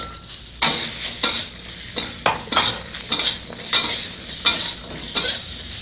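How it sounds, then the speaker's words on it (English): Green beans sauté with asafoetida powder in a wok, a loud close sizzle broken by regular scraping strokes of a stirring utensil roughly every half second, with no talking. "Let's give our green beans a bit of a saute here in the wok for about a minute."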